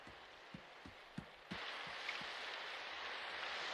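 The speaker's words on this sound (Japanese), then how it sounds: "あ、雨だ。" Rain starts to fall, in an animated series: a few soft, separate drops tap at first, then a steady, hissing shower sets in and continues, fairly quiet and with no voices.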